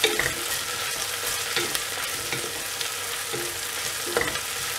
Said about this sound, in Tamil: பச்சை மிளகாய், இந்த வெங்காயம் இதெல்லாம் நல்லா வதங்கணும்.